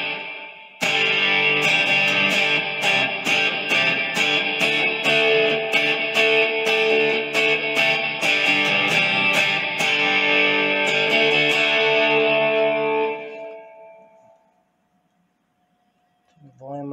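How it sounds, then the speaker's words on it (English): An Iset Cube Baby effects pedal set to modulation gives spacey, shimmering guitar tones that ring steadily for several seconds, then fade to near silence. "with this modulation, it'll get you some spacey tones."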